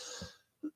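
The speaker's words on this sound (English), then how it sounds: "I don't know why I'm coughing all of a sudden" A single faint, brief cough comes near the end, preceded by soft breathing and low room noise.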